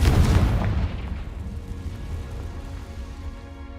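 Confringo fire blast spell exploding in the Hogwarts Legacy video game, a loud booming impact at the start that decays into a long crackling, rain-like rumble fading slowly.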